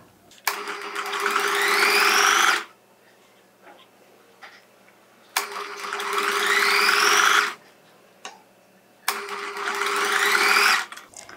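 A sewing machine stitches lace onto the folded edge of a fabric piece in three close, steady runs of about two seconds each, separated by brief quiet pauses, with no talking.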